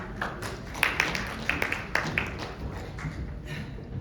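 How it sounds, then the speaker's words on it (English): Audience at a 2022 Texas primary candidate forum clapping briefly for a Land Commissioner candidate, scattered hand claps rising to a few sharp bursts mid-clip, fairly light and near, with no talk over it. "Don't clap too loud."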